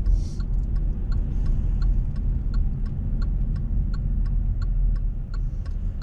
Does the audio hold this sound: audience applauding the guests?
no